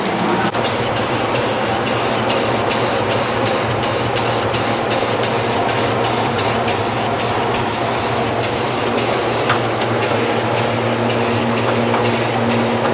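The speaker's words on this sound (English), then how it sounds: "Spray painting is one of my specialties." A continuous, loud hiss of spray painting a white truck runs over a steady low mechanical drone, with faint rhythmic ticking throughout and no voices.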